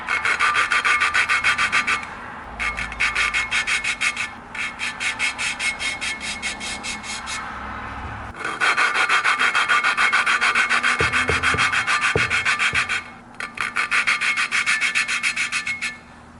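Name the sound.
filing motorcycle engine valve until not gritty, KLX250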